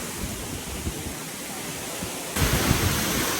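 Heavy water pours at Amboli waterfall in a dense, steady roar that swells louder toward the end, like a close rushing cascade, with no clear voices over it.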